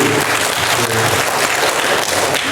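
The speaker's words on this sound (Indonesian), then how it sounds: "Tepuk tangan untuk Nuri." Audience at a batik textile talk breaks into loud, dense applause, many hands clapping together in a steady wash of sound.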